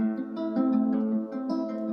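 A guitar sample processed through heavy effects sounds warbly, a sustained, wavering tone with pulsing swells and faint higher chimes, heard alone.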